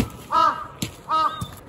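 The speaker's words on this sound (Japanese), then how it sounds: "なんで今一瞬カラスのコーラス来た？" Crows caw twice in quick succession, each call a harsh, nasal burst, with a few soft thumps between them.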